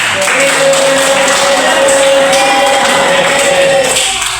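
Students clap their hands together in a classroom during a religious studies lesson, a loud, busy patter of clapping mixed with shouting and crowd noise, a sustained voice-like tone running underneath.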